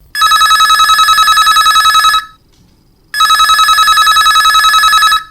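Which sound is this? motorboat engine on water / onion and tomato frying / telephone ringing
telephone ringing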